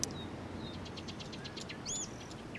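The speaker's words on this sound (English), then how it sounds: "Damn birds." Birds chirp in the Life is Strange: Before the Storm junkyard, with light, scattered tweets over a quiet background and one brighter call near the end.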